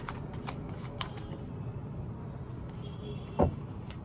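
Tarot cards being shuffled give a soft, steady papery rustle with a few light flicks, fairly quiet and close, with no talk.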